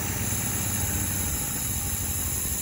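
The engine of a 1978 MGB runs at a steady, even idle while being tuned, a faint continuous low hum with a thin high whine and no voices over it.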